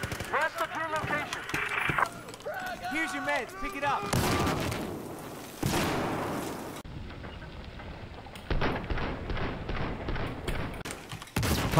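Bursts of rapid gunfire in Battlefield 4 crackle amid shifting game audio, with people talking over it in the opening seconds.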